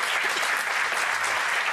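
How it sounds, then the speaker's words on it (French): A room of people applauds loudly during a French parliamentary inquiry commission session, a thick, continuous roar of clapping at even strength for the whole stretch. "Je voudrais qu'on l'applaudisse fort."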